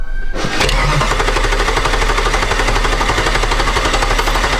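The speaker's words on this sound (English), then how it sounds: "Go ahead and crank it, Mrs. O." A Jeep engine with a misfire is cranked, then runs loudly and roughly up close with a steady, pulsing drone after the start.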